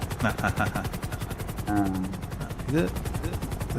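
A helicopter in a video game war match; a rapid, steady rotor chop runs throughout, mixed with bursts of gunfire and people talking over it.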